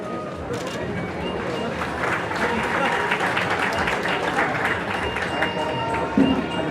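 An audience applauds at a public ceremony honouring freedom fighters, a steady wash of many hands clapping heard from the crowd, with faint crowd noise mixed in.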